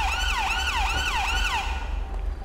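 A London Ambulance siren in a GTA 5 police mod wails in repeated rising and falling sweeps over a low engine rumble, loud and close, then cuts off abruptly near the end.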